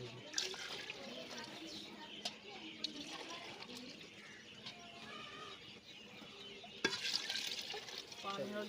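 Water poured into a cooking pot already seasoned with masala, ready for rice, gives a steady splashing wash that runs the whole time, mixed with kitchen clatter and people talking nearby.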